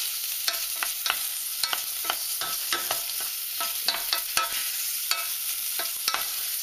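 Streaky bacon sealing in a hot frying pan, a steady bright sizzle broken by frequent sharp pops and crackles of spitting fat, close and continuous with no talk.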